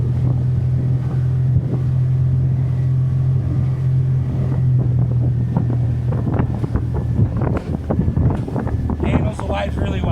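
Seajay 4.25 Avenger small boat running through waves, a steady low engine drone under heavy wind buffeting on the microphone, with water slaps and splashes building toward the end.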